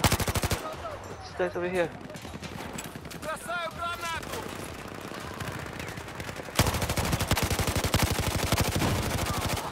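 An MG4 machine gun in Battlefield 4 rattles off sustained rapid bursts, the longest volley running near and loud at the end, while a player talks over the early shots.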